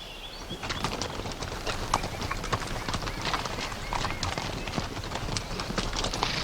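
Hooves of a horse being ridden through wild grizzly country clip-clop in a steady walking rhythm, close and continuous, with an occasional whinny over outdoor ambience and birds.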